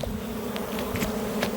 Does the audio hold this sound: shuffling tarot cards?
no